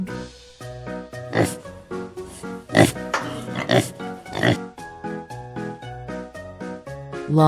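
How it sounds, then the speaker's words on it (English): A farm pig grunts and oinks in several short, sharp bursts spread irregularly across the clip, moderately loud above a steady cheerful backing melody. "Pig."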